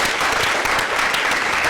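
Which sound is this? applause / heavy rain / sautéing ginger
applause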